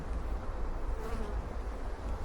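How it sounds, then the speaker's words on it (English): Honey bees buzz continuously over a hive frame full of brood, a dense, steady near hum with no voices. "So the next frame is full of brood, covered in bees"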